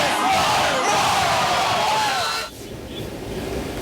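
A hometown crowd roars and cheers at a Friday night high school football game, a dense wash of voices that drops off sharply near the end and leaves a lower, fainter murmur of open-air noise.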